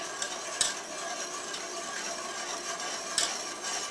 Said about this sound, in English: I'm going to turn on the heat and to medium high, and I'm going to whisk